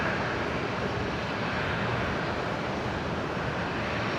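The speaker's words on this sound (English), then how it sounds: "Now, of course, the Fiji Max 8s departing here," A Fiji Airways Boeing 737 Max 8 departing Brisbane International Airport, a loud, steady jet roar that holds broad and unbroken throughout, with no voices.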